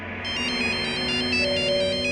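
A telephone rings during an attempted call, a steady repeating electronic ringtone pattern over a low background hum, with no one talking.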